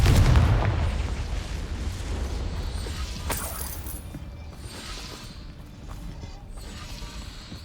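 Fiery spell blast in Hogwarts Legacy: a loud booming burst at the start, then a long rumbling, crackling decay with scattered pops and clatter as the fire settles.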